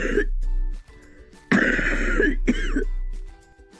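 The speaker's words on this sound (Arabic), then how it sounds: "أو كحة فيها بلغم وده بيكون صوتها." Close, heavy wet coughs with phlegm: a short first burst, then a long rattling cough, followed quickly by a shorter one, with quiet gaps between.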